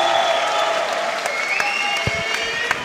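Crowd in Geneva before an amateur fight, a dense continuous wash of applause and cheering with scattered sharp claps and shouts, loud and sustained throughout.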